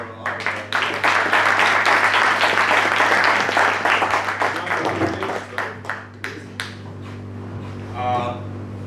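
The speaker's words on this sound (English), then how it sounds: "big round of applause for" A startup event audience gives a big round of applause, dense clapping for several seconds that thins into scattered claps and fades near the end, with a voice briefly audible at the close.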